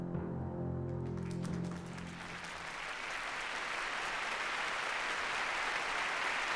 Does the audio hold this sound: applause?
yes